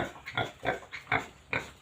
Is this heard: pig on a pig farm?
yes